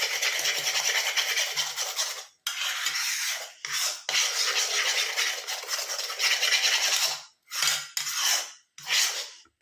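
Homemade hair dye being stirred in a bowl, a steady scraping and clinking of a utensil against the bowl in repeated bursts separated by brief pauses, close and fairly loud.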